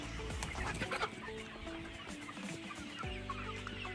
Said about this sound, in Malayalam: ഫുൾ ആക്റ്റീവായിട്ടുള്ള ഫുൾ വാക്സിനേഷൻ കഴിഞ്ഞ കോഴികളാണ്